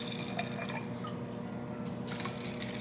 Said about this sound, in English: But I'll pour 3 glasses of that